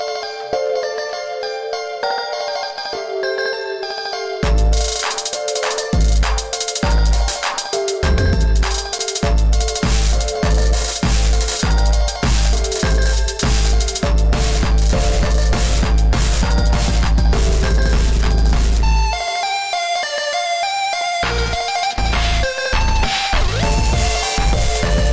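Hyperpop beat: a bright, chiming synth intro gives way around five seconds to loud, heavily compressed, glitchy drums and deep bass, with a brief drop back to the melody before the full beat returns. No talking.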